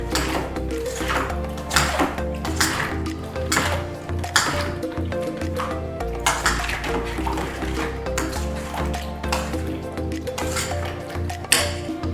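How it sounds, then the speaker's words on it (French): A spoon mixing salt into food in a bowl or pot, with repeated clinking scrapes and wet squishing in a steady rhythm, close and fairly loud. "On va bien mélanger."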